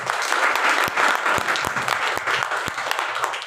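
Loud applause from an audience at a product promotion event, dense continuous clapping with several sharp, distinct claps standing out near the front, sustained throughout without talk.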